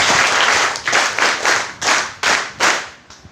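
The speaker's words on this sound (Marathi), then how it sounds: "एकदा तुमच्यासाठी, तुमच्या स्वतःसाठी एकदा जोरदार टाळ्या होणार." Students in a school hall applaud loudly, with dense clapping that rises in repeated surges. The clapping then tapers off near the end.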